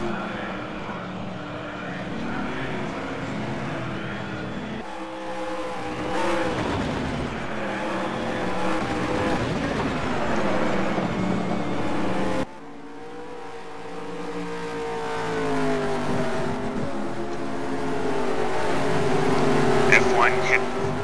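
Race cars lapping a 1.5 mile course, engines droning steadily with rising and falling pitch as they pass, under continuous commentator talk throughout.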